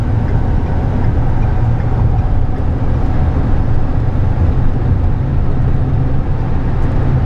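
A 2010 Ford E-350 service box truck with a walk-in box and exterior toolboxes accelerates through the gears toward highway speed, heard from inside as a steady, loud low engine drone and road rumble with no talk.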